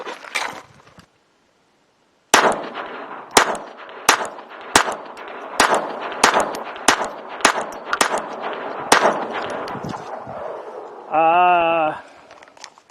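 A Ruger LCP II .22 pistol fires hyper velocity hollow points: about a dozen sharp, loud shots in an uneven string with short gaps, ending in a brief electronic beep.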